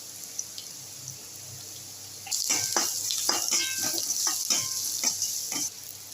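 Carrots and beans sautéing with salt in a pan, a steady sizzle that swells midway with scraping stir strokes and faint clinks, then eases off near the end.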